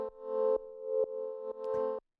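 Second synthesizer drone layer in an Anjunadeep-style track: a sustained harmonic tone restruck four times in even pulses about half a second apart, each note swelling then cutting off, dry and isolated.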